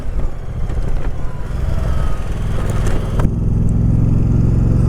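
A 2024 Moto Guzzi Stelvio ridden in sport mode on a cold day produces a loud, steady engine hum beneath strong wind roar, with a slight pitch rise partway through and no talking.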